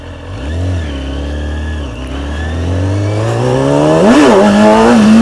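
Motorcycle engine accelerating as the clutch is slipped for a wheelie, revs climbing steadily with a brief dip near two seconds, then a sharp surge and rising pitch near the end, loud and close with no talking.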